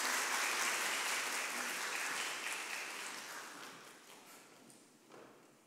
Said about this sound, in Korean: 우리 박수로 우리 하나님께 영광을 올려드립니다.